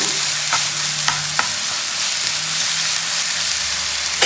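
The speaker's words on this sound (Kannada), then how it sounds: "ಸ್ವಲ್ಪ ನಾವು ಪ್ಯಾನಲ್ಲಿ ಇಟ್ಕೊಂಡು ಈ ಥರ ಫ್ರೈ ಮಾಡಿಕೊಂಡ್ರೆ ಟೇಸ್ಟ್ ಚೆನ್ನಾಗಿರುತ್ತೆ" Chicken momos frying in oil in a pan, a steady loud hiss and crackle that fills the whole stretch, with a few faint clicks of stirring and no voices.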